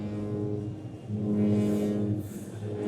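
An Oberheim TEO-5 analog synthesizer plays a sustained low-pass-filtered tone, a warm, buzzy held note that swells and shifts slightly in brightness, moderately quiet with no voices.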